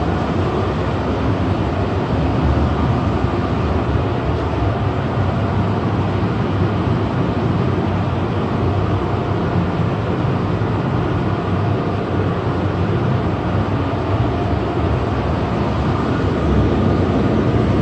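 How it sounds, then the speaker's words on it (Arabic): An automated airport tram runs into a station at Hamad International Airport in Doha, giving a steady, loud rolling hum and rumble with no clear change in level. "Train is arriving at South Node Station."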